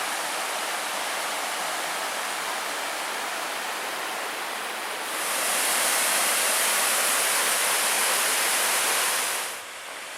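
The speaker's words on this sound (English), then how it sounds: "you can see with all these cascading falls" Cascading waterfall on the Big Carp River Trail in Michigan's Porcupine Mountains, a steady broadband rush of falling water that swells louder and brighter midway, then eases slightly near the end.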